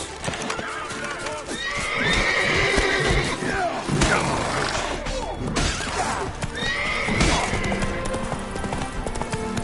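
Geralt's horse from The Witcher 3 gallops with steady clip-clop hoofbeats and snorting whinnies, loud and close against busy game ambience, with battle noise and shouting mixed in.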